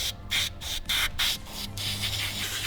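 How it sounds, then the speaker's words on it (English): Meguiar's upholstery cleaner is sprayed onto stained upholstery in an original Mazda RX-7, a series of close, sharp hissing bursts, about five quick trigger pumps in a row with brief gaps between them. "We're gonna try and see if this Meguiar's upholstery cleaner cleans all of this stainage out here."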